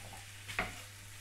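Carrots and onions fry in a pan with a soft, steady sizzle, broken by one brief scrape of stirring. The whole sound is faint and close.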